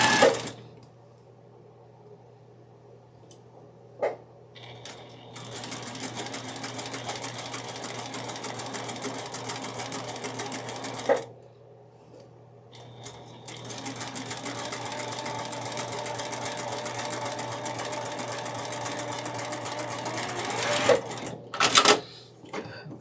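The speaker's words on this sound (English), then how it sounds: "we're going to stitch just a hair behind the line that we've drawn on" A sewing machine stitches a quilt block close by, running in two long steady whirring stretches with brief pauses, starts and clicks between them, and no talk.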